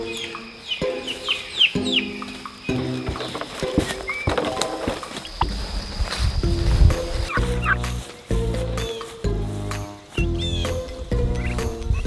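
A flock of farm turkeys gobbling loudly and repeatedly nearby, overlapping rippling calls with some clucking mixed in.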